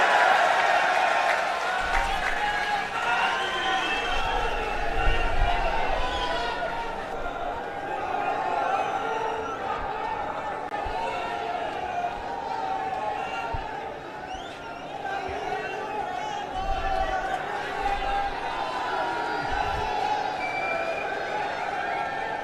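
Large crowd at an Aam Aadmi Party public rally in Sri Ganganagar, Rajasthan, applauding Arvind Kejriwal, a long sustained roar of clapping and cheering mixed with chatter and shouting voices.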